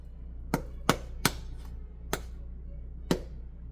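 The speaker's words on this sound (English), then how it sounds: "once you put it in, you want to kind of smack it down a little bit to give it that flatter shape" Whole wheat English muffin dough, topped with cornmeal, is smacked flat in an electric skillet: five sharp, separate slaps at uneven intervals over a steady low hum, close and fairly loud, no talking.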